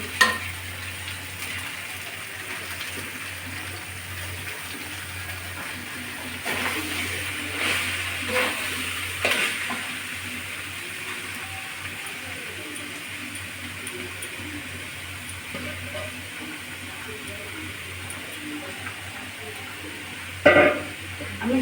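Mashed boiled vegetables fry with spices in a pan for a vegetarian fig dalna, a continuous low sizzle with occasional stirring and a sharp clatter near the end.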